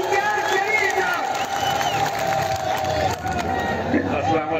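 Crowd at an outdoor public political meeting in Sambhal, Uttar Pradesh, clapping and cheering loudly, a dense, continuous roar of applause and shouts with voices mixed in.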